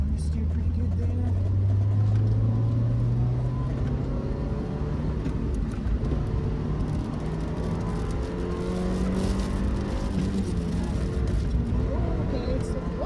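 Mazda Miata race car on a track braking into a corner and carrying on through it, the engine note dropping and then holding a steady drone with shifting pitch, close and continuous.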